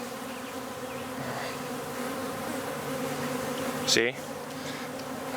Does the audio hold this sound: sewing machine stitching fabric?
no